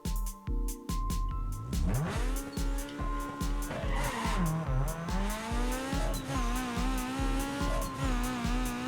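A race car engine in the video game Need for Speed Underground 2 revs and roars with rising pitch as gears shift under nitrous boost, tires squealing, loud and close with no talking.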